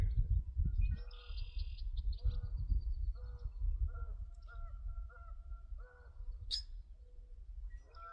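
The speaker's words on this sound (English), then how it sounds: "birds, all their different songs and sounds and what they're saying to each other." Assorted birds including geese sing and call near water, with bursts of chirps and honks spread across the clip over a low steady rumble.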